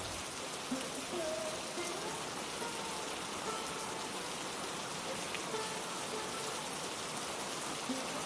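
Steady, soft rainfall patters on a surface around a poor family's home, a continuous even hiss with no voices.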